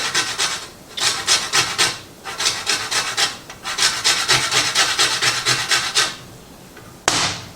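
Zester scraped over a lime for salsa in a kitchen, repeated quick raspy strokes in short bursts, close and fairly loud with brief pauses between rounds.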